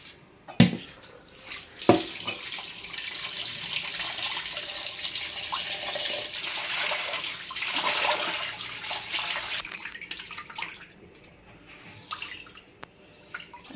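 A kitchen tap runs while raw chicken is washed for a chicken kurma. A couple of knocks come first, then a steady, splashing stream that lasts several seconds before easing off into quieter trickles and drips.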